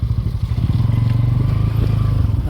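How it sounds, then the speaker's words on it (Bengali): A motorbike rides along a road beside a railway line near Sitakunda, Chattogram, its engine a close, steady, rumbling drone with a slight rhythmic pulse throughout. "আমরা সাইড যে রোড আছে রোড দিয়ে বাইক নিয়ে যাইতেছি"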